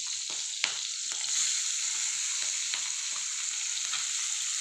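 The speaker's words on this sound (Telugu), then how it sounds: "ఇప్పుడు ఉల్లిపాయలు కూడా వేసుకుందాం." Onions and green chillies fry in a pan for karam pulusu, giving a continuous bright sizzle close up, with soft scraping taps of stirring scattered throughout.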